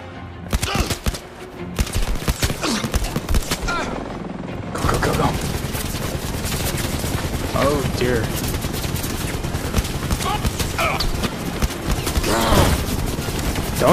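Dense gunfire rattles through the Blood and Truth shooter game, with rapid bursts and shots layered over a constant roar of action, while a voice talks over the chaos throughout.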